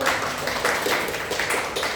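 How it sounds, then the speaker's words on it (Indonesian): Students in a classroom clap together in a quick, dense burst of many hands, moderately loud and continuous for a couple of seconds. "Berikan tepuk tangan dulu."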